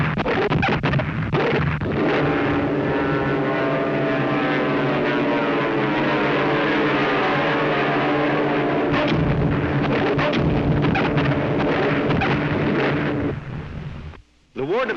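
Cartoon dive bombers roar overhead in a Golden Age Superman cartoon, a loud sustained propeller drone with a rising whine as they attack submarines, fading abruptly near the end.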